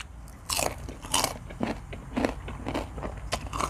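Crunchy bites into crispy deep-fried fish, several sharp crackling crunches spaced through the clip, close and fairly loud with quiet chewing between.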